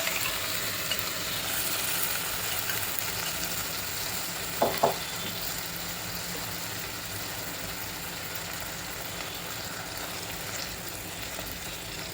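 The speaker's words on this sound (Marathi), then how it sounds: "असा चांगला परतून झाला त्यामध्ये आता डाळ टाकायची" Steady sizzling of dal added to a hot frying pan for lasooni palak dal, constant and close, with a brief clatter partway through and no talking.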